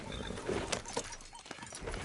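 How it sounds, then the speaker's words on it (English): Horse hooves clip-clop at a walking pace in Red Dead Redemption 2, a few soft, evenly spaced footfalls heard over faint ambient game sound. "Grab your horse and let's go."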